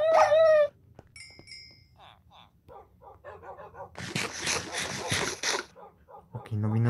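Dogs in a video game yelp, whimper and bark in short bursts. A loud whine comes first, then a series of small yips, then a noisy, rough stretch of barking, all close and fairly loud.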